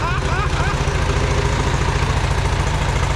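A Farmall Super A tractor engine idles close by with a steady, rhythmic low chugging throughout.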